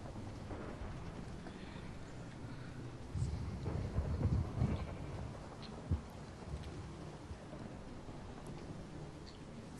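Rain and thunder in the video game Minecraft at night: a continuous soft rain hiss, with a deep rolling thunder rumble swelling in the middle and a sharper crack shortly after.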